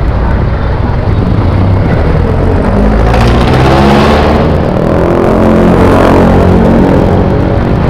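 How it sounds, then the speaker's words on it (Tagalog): Heavy road traffic along Coastal Road from Las Piñas to Molino, engines rumbling and vehicles swelling past close by, with a couple of louder passes building midway and toward the end. "Traffic."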